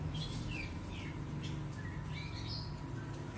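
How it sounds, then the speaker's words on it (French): Morning birdsong in Bali: several birds chirp and trill in overlapping bursts over a steady low background hum, moderately close, with no talking. "Tous les matins, c'est le même chant des oiseaux qui me réveille."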